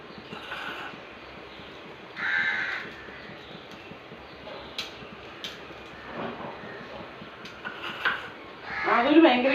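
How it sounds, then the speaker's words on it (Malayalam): A crow caws outdoors in a few separate calls, one early and a louder one near the end, mixed with household clatter and people talking. "കാക്കയാണെങ്കിൽ വിരുന്ന് വിളിക്കുന്നുണ്ട്"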